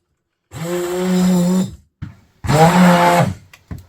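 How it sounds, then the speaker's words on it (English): Electric whisk or blender churning a soap mixture with garden flowers, two loud whirring bursts of about a second each, close by, with short pauses between them. "And then I'll just whisk it in."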